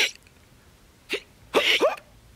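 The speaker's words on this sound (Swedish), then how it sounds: "Och sen fick Jaffa hicka." A hiccup sound, one brief gulp followed by a longer, voiced two-part hiccup, close and isolated against near silence.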